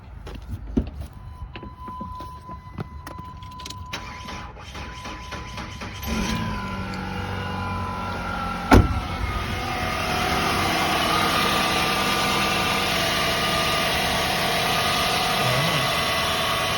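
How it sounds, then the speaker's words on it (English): A car is started partway through, with a brief loud burst as the engine turns over, then settles into a steady idle hum that continues to the end. "Let me turn the car on."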